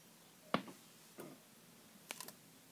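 A few small mechanical clicks, isolated and faint, from the leaf shutter of a Rolleicord camera being tripped, with short silences between them.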